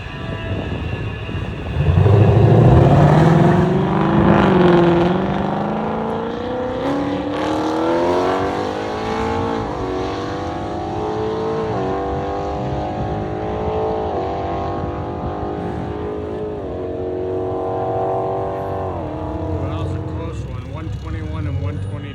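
Cars race down a drag strip near Bradenton, Florida, with Mustangs and a Cadillac CTS-V among them. Loud engines roar with rising, sweeping revs, and people talk throughout.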